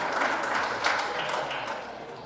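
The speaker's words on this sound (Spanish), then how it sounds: "Dale un aplauso al Señor" Church congregation clapping in praise, a dense, steady wash of applause from many hands, fairly loud and continuous, slowly tapering toward the end.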